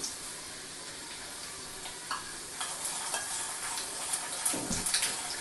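Crumbled peanuts fry golden in a pan as sesame seeds go in, giving a soft continuous sizzle with close stirring scrapes and a brief crackling patter near the end.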